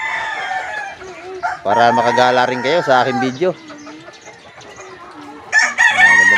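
Roosters crow loudly and close at a chicken farm, one long drawn-out crow and then another, with hens clucking around them while someone talks over the birds.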